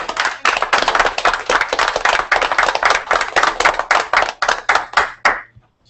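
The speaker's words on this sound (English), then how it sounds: "I want to applaud that" Dense, loud applause from a council meeting room celebrating a member's graduation, many hands clapping rapidly and continuously before tapering off abruptly at the end.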